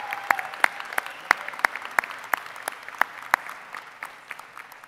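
Applause for student singers at a spring undergraduate commencement ceremony at Colorado School of Mines, a soft wash of scattered clapping with a few distinct sharper claps standing out at a fairly regular pace.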